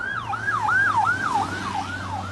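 An ambulance siren wails in a fast, regular up-and-down pattern, loud and close, cycling about five times over a low engine drone, with no voices.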